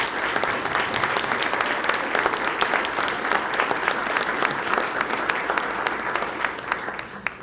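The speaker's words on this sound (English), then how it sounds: "give them a round of applause" Luncheon audience at a Chamber of Commerce event giving school district staff a round of applause: steady, dense clapping from a sizeable crowd in an indoor hall, lasting several seconds before fading.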